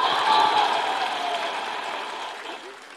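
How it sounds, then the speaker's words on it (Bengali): Audience clapping fills the hall at an event honoring women from the July mass uprising, a steady, broad patter of many hands that holds for a few seconds and eases off gradually. "আমাদের ক্ষোভের জন্য একটা জোরে হাততালি"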